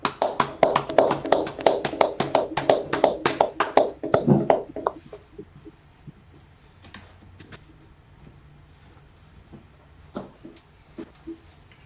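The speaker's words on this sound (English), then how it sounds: "Let's clap it up." A small audience at a class gathering claps in a quick burst of distinct claps for about four seconds, then it dies to a few scattered taps in a quiet room.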